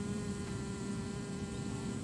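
Bees droning steadily around an open beehive, a continuous close buzzing hum with no break and no talking.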